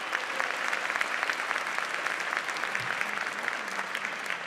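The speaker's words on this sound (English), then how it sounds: "let's give them another round of applause to the singers at Northwood High" A school event audience applauds steadily for high school singers, a dense wash of clapping hands from a sizable crowd that holds at an even level throughout.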